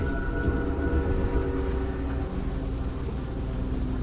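A train rolls along in the indie horror game Choo-Choo Charles, giving a steady, dense low rumble with a faint tonal hum. It stays constant and fairly loud, with no voices.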